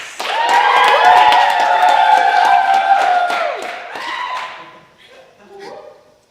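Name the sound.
audience cheering and applauding for a comedian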